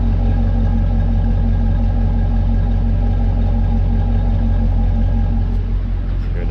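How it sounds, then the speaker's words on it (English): A Chevrolet LT1 V8 engine idles with a steady deep rumble and a faint ticking puff from a slight exhaust leak, close and loud throughout. "Got a little exhaust leak, probably like every LT1 has an exhaust leak."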